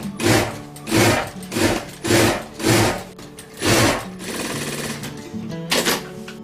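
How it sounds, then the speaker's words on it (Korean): A sewing machine stitches fabric for a Hurom juicer cover in several loud, close bursts of rapid needle hammering separated by short pauses, then a steadier run ending in another quick burst. "안쪽 길이 마주보게 한 다음 맞물려서 박음질 해주세요."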